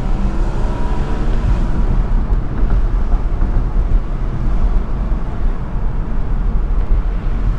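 A Porsche 981 Boxster engine downshifts while driving, heard from inside the car as a loud, steady roar. The engine note shifts pitch as the revs change, under constant road and wind noise.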